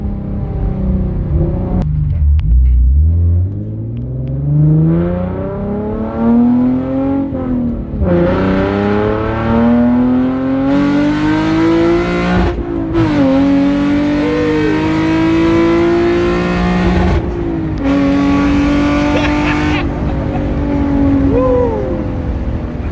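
A Hyundai Genesis Coupe engine with a painted manifold revs hard, climbing and falling through several loud, raw, race-car-like pulls with sharp gear-shift breaks, close and dominant throughout.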